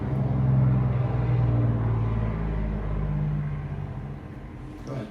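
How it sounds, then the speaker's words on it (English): A truck passing outside a studio, a steady low rumble of its engine that swells and slowly fades over several seconds, heard from indoors at moderate distance. "There was a truck going by. It was kind of loud here in the studio."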